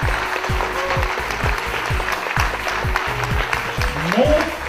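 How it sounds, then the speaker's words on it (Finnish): Audience applause at a cross-country skiing awards ceremony, steady clapping from a crowd mixed with low rhythmic thumps and some background voices. "Ja annetaan vielä raikuvat aplodit näille kovin karpalaiselle!"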